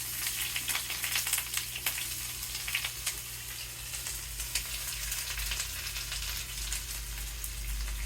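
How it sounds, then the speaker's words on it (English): Onion frying in a hot skillet for stroganoff gives a steady, close sizzle with crackling pops throughout, a low hum underneath, and no talking. "Get our onion going."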